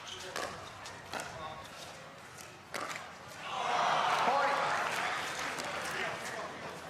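Spectators at a pro pickleball championship match let out a broad, swelling groan midway through, rising and then slowly fading, with commentators talking before and over it and sharp paddle and ball taps earlier.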